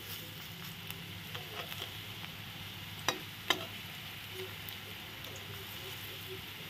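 Papaya koftas fry slowly in a pan, giving a soft, steady sizzle with a few brief clinks and taps. The sound is faint and continuous, with no talking.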